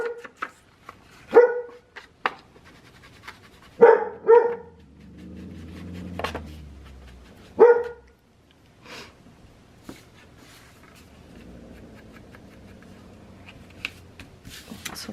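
A pet dog named Sophie gives several sharp, separate barks at close range in a quiet room, with some soft shuffling between them and long stretches of near silence afterward.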